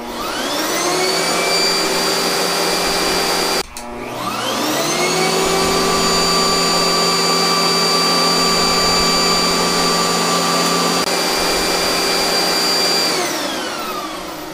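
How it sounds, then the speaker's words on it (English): A 12 amp household vacuum cleaner powered through a 2000 watt power inverter runs loud and close with a steady whining drone, briefly cutting out and spinning back up, then winding down at the end. "We will first demonstrate with a 12 amp home vacuum"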